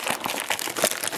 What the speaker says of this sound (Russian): Загадочный пакетик. Давай смотреть, что тут у нас. Я буду открывать.